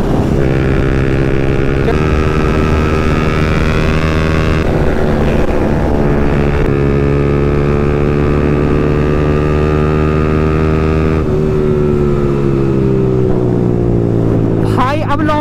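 KTM and Honda NS motorcycles racing along a road, engines droning loudly with rising and falling harmonic pitch, passing and shifting gears throughout, with a rider talking at times over the noise.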